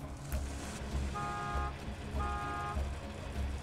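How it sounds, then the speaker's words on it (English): Vehicle horn in Borderlands 2 honks twice in long, loud, steady blasts over a low engine rumble. "Honk your horn."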